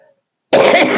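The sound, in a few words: cough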